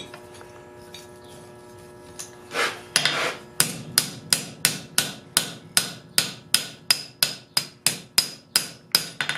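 Old loose tongs being tightened with a hammer: after a quiet start, a steady run of about fifteen sharp metallic taps rings out close and loud at an even rhythm, with no talking.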